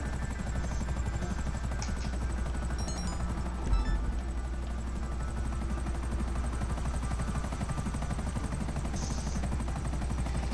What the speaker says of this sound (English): Alright, I'm gonna keep flying this chopper.